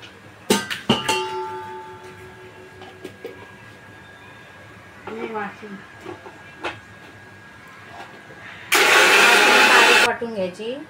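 A kitchen mixer grinds soaked dal and rice into idli batter in one loud, steady burst of about a second and a half near the end, after scattered clinks and quiet handling sounds.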